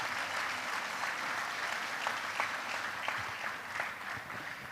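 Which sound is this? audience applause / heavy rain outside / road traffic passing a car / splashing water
audience applause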